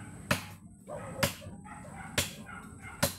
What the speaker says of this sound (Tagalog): Ang ingay ng aso niya.